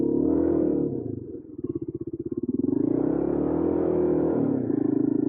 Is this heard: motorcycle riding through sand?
yes